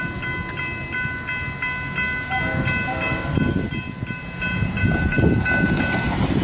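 Norfolk Southern geometry train NSGS-27 rolling across a trestle on the Florida East Coast main line at night, a steady rumble of wheels on rail heard from trackside with a faint high tonal whine and scattered clicks.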